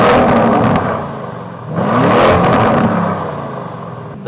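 Stock Lamborghini Urus in Corsa mode, the exhaust barking through a quick rev, settling, then climbing into a second loud, longer rev before fading toward a rumbling idle, with no one speaking.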